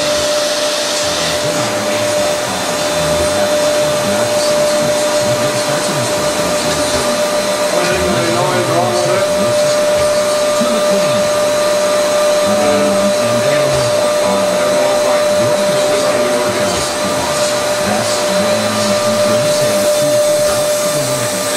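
A loud vacuum system on a Moore G-18 jig grinder runs continuously with a steady roaring hiss and a constant high whine, unchanging for the whole stretch.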